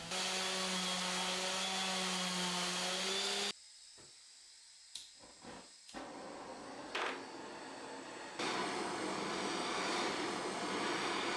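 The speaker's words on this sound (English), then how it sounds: "So now I can give it a sand down" Power sanding of a chunky textured wooden pen block: a loud steady whirring grind for several seconds, then a quieter stretch of brief scuffs and pauses, before the sanding whine picks up again at full level.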